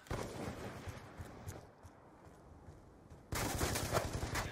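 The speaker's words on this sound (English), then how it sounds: "Who's shooting?" Gunfire in Call of Duty Black Ops 2 online free-for-all on the Studio map, a steady stream of shots of middling loudness that thins in the middle and then returns in a louder, denser burst near the end.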